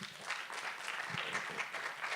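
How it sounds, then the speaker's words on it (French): Applause from a business seminar audience welcoming a guest speaker, moderate and fairly quiet, a short burst of scattered clapping. "Xavier Delplanque. Vous pouvez l'applaudir."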